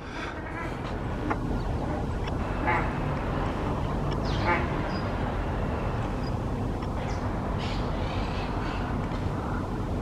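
Mallard and ruddy shelduck quack and call at a lagoon, with scattered calls over a constant dense wash of outdoor noise and faint voices in the background.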